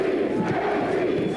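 A pro boxing crowd roars through the final round of the Juan Galvan vs Chris Linson Jr. bout, a dense, continuous wall of cheering and shouting that stays loud and steady throughout.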